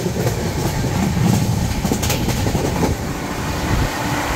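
The Humsafar Express passenger train runs through Khurja Junction, a loud, close rumble of wheels and carriages with rhythmic clattering over the rails throughout, and no talking.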